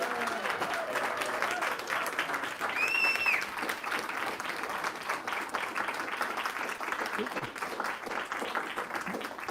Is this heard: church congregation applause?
yes